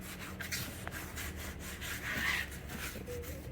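Steady rubbing and whirring of a machine polisher cutting and buffing orange-peel paint on a Lexus LS430, a continuous close-up friction sound with slight swells in intensity and no talking.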